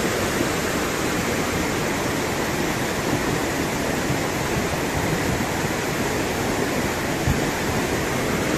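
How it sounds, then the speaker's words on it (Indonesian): Volcanic lahar flood from Semeru rushing past, a loud continuous broadband roar of churning water, with rolling rocks carried along in the current, steady and unbroken throughout. "Terdengar banyak suara batu lur yang menggelinding dibawa oleh arus banjir."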